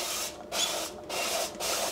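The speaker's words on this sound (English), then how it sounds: "spray the bottom with a little bit of oil" Three short hissing bursts of a cooking oil spray bottle into an air fryer, close and even, separated by brief pauses.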